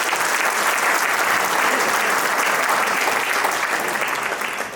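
Applause from an audience at a Vile Parle Vagad social group gathering, a dense, loud and sustained clapping that holds steady throughout before easing slightly at the very end.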